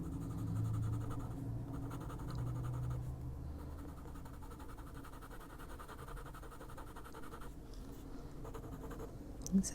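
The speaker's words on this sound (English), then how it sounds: "I mean, you can hear it scratching." Colored pencil scratching steadily across paper while coloring a ladybird picture, a soft continuous rasp close to the listener with faint low room hum beneath, slightly louder in the first few seconds.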